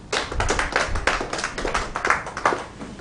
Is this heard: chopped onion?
no